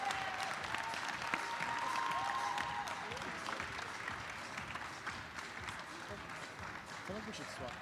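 Sustained audience applause at an African startup pitch summit, dense steady clapping filling the whole stretch for the winner Deaf Square, fading slightly toward the end with no voices over it.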